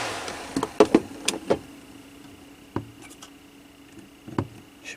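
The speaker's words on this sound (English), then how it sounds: "I have enough power to spin the fan" A small fan spun by a DIY bench power supply set to 5 volts gives a faint, steady motor whine, with a few scattered clicks and knocks near the start and now and then later.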